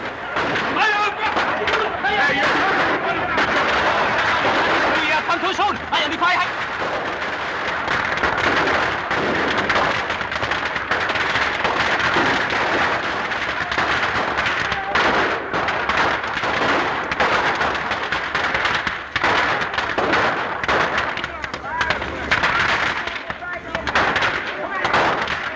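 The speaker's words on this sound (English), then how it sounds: "Machine gun, huh?" Dense, sustained gunfire in a 1936 film scene, loud and continuous for the whole stretch with a harsh crackle and rumble, and voices faintly mixed in.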